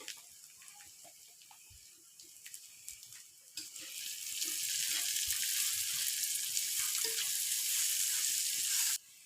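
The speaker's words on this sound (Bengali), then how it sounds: "দেখেন পেঁয়াজটা আমি একদম ভাজা ভাজা করে নিই, হালকা বাদামি রং হয়ে এসেছে" Onions fry in a pan until lightly browned for an egg and boiled potato curry. A soft crackle swells into a loud, steady sizzle that holds for several seconds, then cuts off abruptly.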